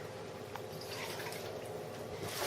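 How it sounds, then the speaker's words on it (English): Water poured from a container into a pot for a vegetarian lentil curry stew, a steady close splashing and trickling fill that runs throughout, swelling slightly louder toward the end. "I'm going to add 4 cups of water."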